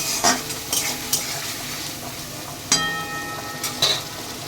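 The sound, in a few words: frying and stirring onions in a pan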